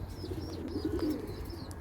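Pigeon cooing among kept racing or tumbler pigeons, low throaty coos repeating softly at close range, with faint chirps and light background noise.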